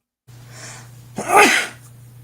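A single sharp sneeze, close and loud, with a short breathy intake before it, over a steady low electrical hum.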